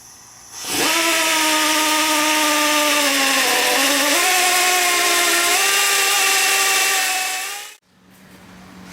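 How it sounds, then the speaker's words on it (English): A power drill turning a screw extractor to back out an old screw, a loud steady whining drone that dips in pitch under load, then cuts off abruptly. "I got the screw extractor in here and it looks like it's starting to ease that old screw out"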